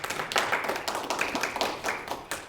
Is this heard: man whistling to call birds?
no